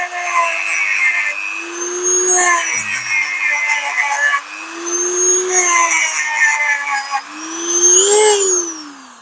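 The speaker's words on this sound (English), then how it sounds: "grinding into the data plate now." Grinder cutting into an original copper-and-brass data plate from a Ford Model T, a loud, steady whine that rises and falls in pitch as the tool bites, with bursts of harsh metallic rasp.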